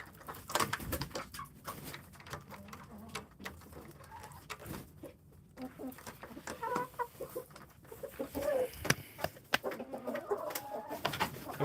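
A rooster clucks and crows close by in a farmyard, sharp irregular calls and throaty clucks rising over a quiet background with other birds.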